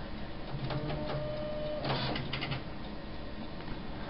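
A quiet printer running a test print, with a low steady mechanical whir and a few brief, faint clicking and whirring bursts from the moving parts, heard alone.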